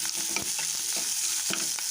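Gooseberries sautéing in a pan for a coriander chutney, a steady bright sizzle with scattered pops and light stirring taps, close and alone.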